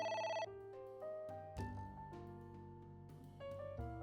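In the AI: The Somnium Files video game, a telephone rings in a brief burst at the start, then gives way to sustained background game music with faint tonal chimes.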